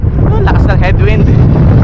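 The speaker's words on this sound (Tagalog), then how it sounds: "Oh, lakas ng headwind." Strong headwind buffets the microphone while cycling through the Singapore business district, a loud steady roar with a voice speaking over it.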